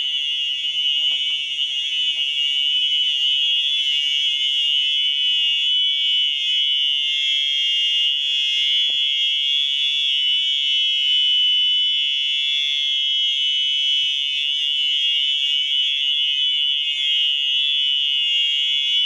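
A store alarm in an abandoned mall in Chesterfield, Missouri buzzes with a loud, continuous high-pitched electronic tone, steady and unbroken, close by.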